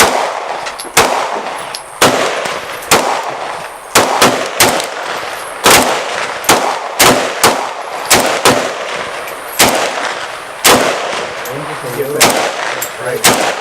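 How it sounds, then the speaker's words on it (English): An AK-pattern entry-level rifle fires at a target outdoors, a long string of loud sharp single shots spaced roughly a second apart with a slightly uneven rhythm, each crack close and booming. "Aim it and shoot for that target"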